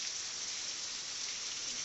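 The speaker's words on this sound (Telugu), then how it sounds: "ఇగో చూడండి ఎంత పెద్దగా పడుతుందో వర్షము" Heavy rain falls in a steady, close, unbroken hiss across a short stretch, with no other sounds standing out.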